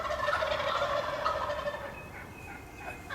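Several wild turkeys gobble repeatedly from a roost tree at a spring hunt in Nebraska, loud rolling calls overlapping in a dense chorus that tapers off slightly toward the end, with no talking.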